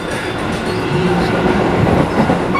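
Inside a moving commuter train headed toward Bogor, a loud, continuous rumble of wheels and carriage fills the space, with steady clatter throughout and no voices.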